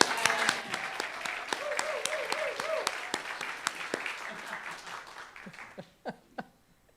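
An audience at an annual community meeting claps for speaker Ignacio Diaz Jr., a lively patter with some laughter that thins to scattered final claps, while a voice talks over it.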